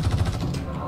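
Rapid automatic gunfire in the sci-fi shooter Star Citizen, a dense burst of repeated shots in a large firefight, loud and close, with speech tagged alongside.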